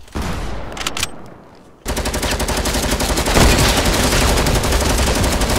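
Rifle fire in a video game battle, with a burst of loud shots at the start, a brief lull, then sustained dense gunfire and rapid cracks continuing to the end.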